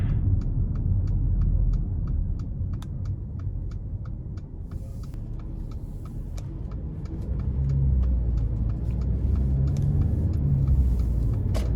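A 2017 Mercedes-Benz GLA 250 cruises in eco mode, a steady low engine and road rumble heard from inside the cabin with faint ticking clicks over it, smooth and unbroken throughout.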